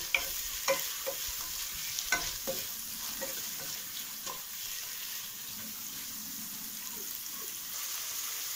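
Onions frying in a pan for Tamil-style mutton kulambu, with a steady sizzle throughout and a few sharp scraping stirs of a spoon near the start, close and alone with no talk.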